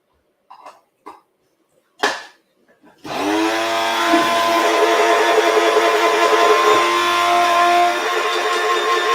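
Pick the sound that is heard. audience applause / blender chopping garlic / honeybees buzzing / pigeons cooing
blender chopping garlic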